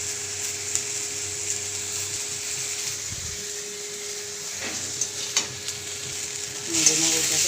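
Soft sizzling of onion, tomato and garlic frying in a pan for masoor dal, with scraping stirs and a few clinks of a utensil toward the end, quiet and close with no talk.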